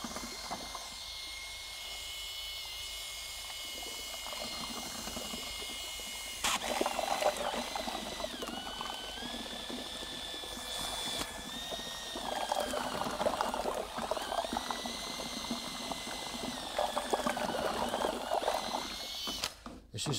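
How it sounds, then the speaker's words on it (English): Power whisk churning a bucket of ARDEX floor levelling compound, a low whirring hum that kicks in loudly partway through and carries on with varying pitch, with a little talk before the mixing starts. "Just going to give it another whisk up"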